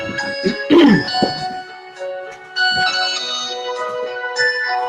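A mobile phone ringtone chimes indoors in a soap-making workspace, a repeating bright melodic pattern sounding fairly loud and close, with a short burst of other noise early on.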